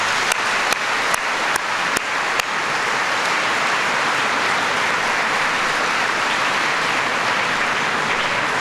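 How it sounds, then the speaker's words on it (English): Dense, sustained applause from a large school audience fills the space, loud and steady throughout, with a few sharp claps or knocks standing out near the start. "So give yourselves a round of applause."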